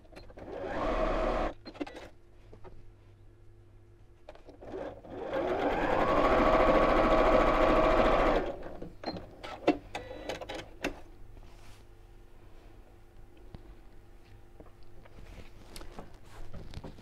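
A sewing machine stitching rows of a disappearing four patch cushion cover, a steady whirring run of several seconds between shorter bursts and quiet handling clicks, close and clear.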